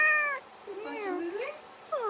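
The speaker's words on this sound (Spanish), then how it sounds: "Qué belleza tu gatito, Chris" A pet kitten meows three times, close and clear: a short high mew, a longer wavering cry, then a brief final mew, with quiet pauses between.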